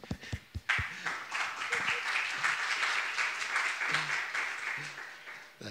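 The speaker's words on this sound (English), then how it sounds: "Can we clap for them?" A conference audience claps, beginning with a few separate sharp claps, then swelling into steady, full applause from a large hall that stays strong before thinning slightly toward the end.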